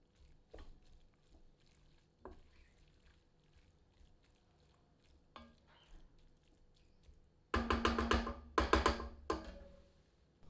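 Mushrooms and peas being stirred into a goat meat keema in a pan, with soft scrapes and wet squelches building into louder, thicker stirring bursts near the end and no one talking.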